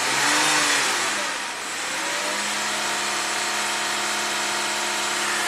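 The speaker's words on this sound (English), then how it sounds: "I'm going to rev it a little bit." V6 engine of a 2015 Lexus IS250 with a high-idle fault, revving up once from a loud, buzzing idle and then holding a steady elevated drone, heard close with no talking.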